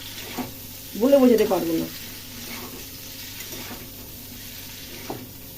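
Vegetables being stirred and fried in a pan with ground spice paste, a steady soft sizzle and scraping running throughout, close by, while someone speaks briefly over it.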